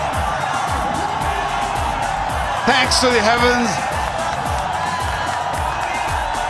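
Crowd at a cricket stadium roaring and cheering in a steady, dense wash of noise beneath a commentator's voice, with a brief swell of shouting midway.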